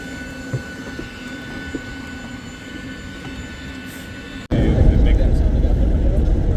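Airliners at Faro airport in Portugal produce a steady engine hum that jumps suddenly to a much louder, close rumbling roar, while people talk over it.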